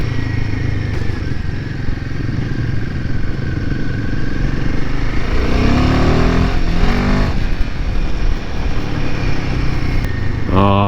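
A Royal Enfield Himalayan 450 motorcycle rides along a wet, muddy trail, its engine droning loudly and steadily up close with wind noise, rising in a revving surge midway before settling back to a cruising hum.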